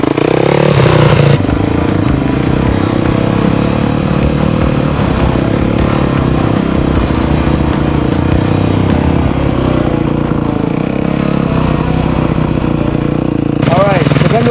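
A motorcycle pulls away in first gear: the engine note rises and shifts as the throttle opens, then settles into a steady running drone, with a voice speaking over it.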